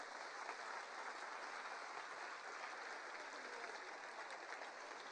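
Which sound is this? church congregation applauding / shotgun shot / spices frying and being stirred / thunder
church congregation applauding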